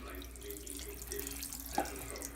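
Warm tap water running to wet a child's hair, a soft steady faucet stream with faint splashing, quiet and close, with one brief louder splash near the end.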